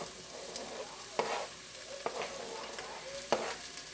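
Garlic, onions and peppers sautéing in grapeseed oil in a pot sizzle softly and steadily, broken by three sharp clacks of a spoon stirring against the pot, all fairly close with no speech.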